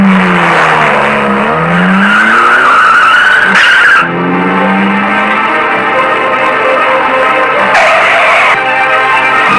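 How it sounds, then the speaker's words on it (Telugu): A car drives at speed and skids, its tires squealing loudly in rising and falling sweeps over a steady engine roar. The sound is close and continuous, with no voices. "మేడం గౌరీ పిచ్చిదాన్ని కార్ డ్రైవ్ చేస్తూ కొనుపక్కన వెళ్తుందమ్మా."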